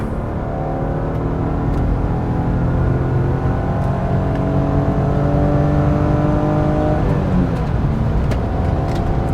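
A BMW E36 328i accelerating hard on the Autobahn, heard from inside as a steady, loud engine drone climbing in pitch through the gears with a brief shift dip, road roar underneath.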